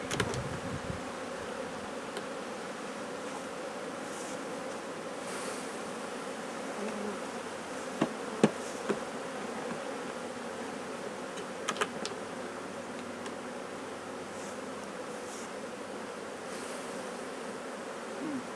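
Honey bees buzz around an Ashforth feeder filled with sugar syrup, a steady, moderate hum from many insects throughout, with occasional faint clicks and knocks.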